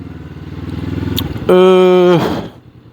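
A 2023 Honda CB500X motorcycle engine runs close by, a pulsing rumble climbing steadily before jumping to a loud, sustained higher drone that fades away near the end.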